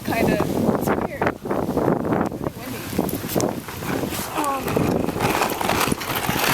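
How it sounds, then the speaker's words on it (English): Strong wind blowing outdoors on a cold day, buffeting the microphone as a steady broadband roar throughout, with people talking over it. "Really windy."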